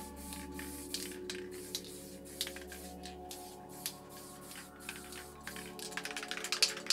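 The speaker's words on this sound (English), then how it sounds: "Now we're going to do spray around the lids." An A.K.A Colors Writer Series spray paint can sprayed around lid stencils, heard as faint, short bursts of hissing spray repeated at irregular intervals, quickening toward the end.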